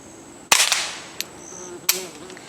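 Two sharp, quiet cracks from a .22 LR rifle fitted with a Griffin Armament Paladin 5 suppressor, fired outdoors at steel targets, followed by a faint distant ping and a brief trailing rattle.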